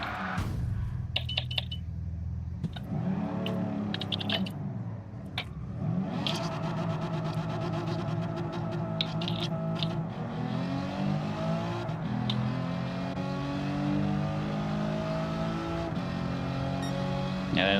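Race car engine in the racing game Gran Turismo 7, revving hard and climbing through the gears, dropping off and rising again through corners, with a steady droning whine throughout.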